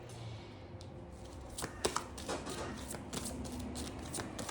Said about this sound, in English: Shuffling seems to be taking forever today.